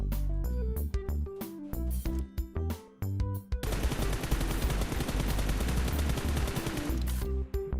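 Weapon fire in the mobile shooter PUBG Mobile, first rapid separate shots with short gaps, then a dense sustained burst of automatic gunfire, loud and continuous, ending in a few more single shots.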